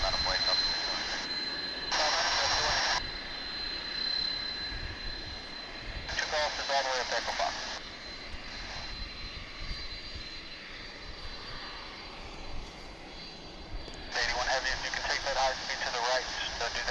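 A TWA-liveried airliner climbs away from DFW International Airport, its engine roar a steady broadband rumble throughout, while bursts of radio chatter and a commentator's voice cut in intermittently over it.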